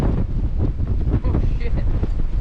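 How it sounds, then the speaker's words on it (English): Strong wind buffets the microphone outdoors during a blizzard at a duck hunt, a loud, constant roar with gusts rising and falling throughout. "I think that means it's windy out here or something"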